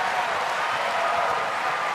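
A dense crowd at Louis Armstrong Stadium during a US Open tennis match applauds, with continuous, loud and even clapping from many hands that fills the whole stretch without a break.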